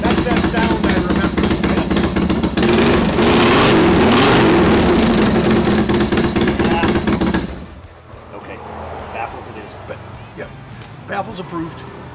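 A 1993 Harley-Davidson FXLR with a vintage Kerker exhaust revs hard and loud up close for several seconds, then drops off to a quiet idle with faint intermittent noises.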